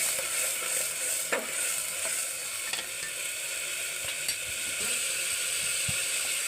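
Field beans frying with onion in a spiced oil tempering, a low steady sizzle with scattered scrapes and clicks of stirring, fairly quiet and without speech.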